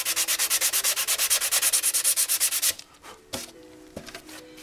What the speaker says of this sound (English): this is cleaned up now to the point we can use the block sander on it